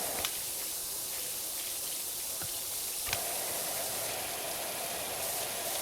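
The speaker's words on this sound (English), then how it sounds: "All right, let's get back to spraying." A pressure washer sprays a steady jet of water in the PowerWash Simulator 2 video game, a continuous hissing rush that runs the whole time without a break and without voices.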